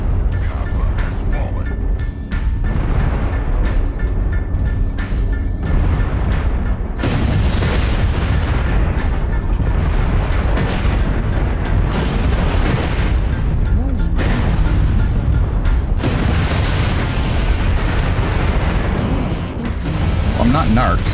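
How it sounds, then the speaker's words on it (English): Missile impacts pound a mech in the game MechWarrior Online, a near-continuous barrage of loud booms and blasts with rumbling low end, layered with speech throughout. "I'm getting hit by missiles like crazy."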